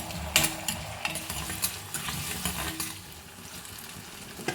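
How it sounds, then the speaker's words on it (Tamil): Onions and curry leaves sauté in oil, with a soft constant sizzle broken by uneven scraping stirs and a sharper clatter early on. "அதுவும் கருவேப்பிலையும் சேர்த்து எண்ணெயில் வதக்கிக்கிடுவோம்"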